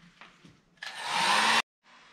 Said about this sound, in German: Ich habe jetzt jede Form 5 Minuten geföhnt und das zweimal.